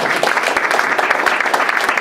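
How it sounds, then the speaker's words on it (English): An audience at a Ripon Society address by Governor Charlie Crist claps in steady, dense applause, close and loud throughout. "Please give her a round of applause."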